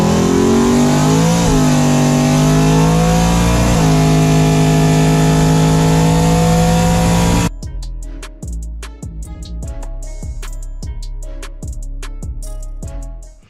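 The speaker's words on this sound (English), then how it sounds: "I figured I'd take my new project car out and let's burn some tires on this occasion" Twin-turbo Foxbody Mustang with a 5.3 LS swap and twin GT3582 turbos doing a burnout, a loud sustained roaring rev with rising and falling pitch that cuts off, then a rapid sputtering, popping idle.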